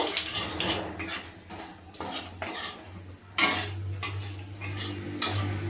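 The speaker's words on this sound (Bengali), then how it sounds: "ফোড়নটাকে একটু ভালো করে ভেজে নেব।" Whole spices tempering in leftover kofta-frying oil in a wok, with loud clinks and scrapes of a utensil against the pan over a steady low sizzle, in irregular bursts.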